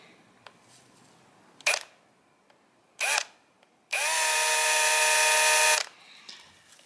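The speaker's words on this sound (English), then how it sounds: "So I'm going to go around and drill a bunch of holes," Power drill boring holes in a resin and wood piece: two short whirring bursts followed by a longer steady high-pitched drilling run of about two seconds, close and loud against quiet surroundings.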